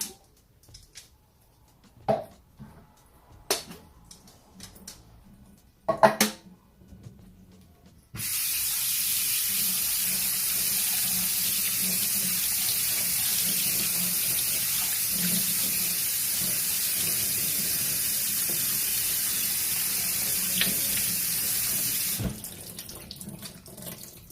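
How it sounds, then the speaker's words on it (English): Callaloo leaves are rinsed under a kitchen tap: a steady, loud rush of running water flows for about fourteen seconds after some brief handling noises, then cuts off. "So now I'm gonna rinse them."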